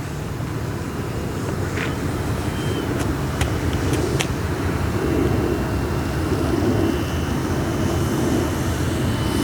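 A Hangar 9 Fokker RC model biplane, flown again after a rebuild following a crash, drones loudly and steadily, close and continuous, with a few faint sharp ticks over the engine.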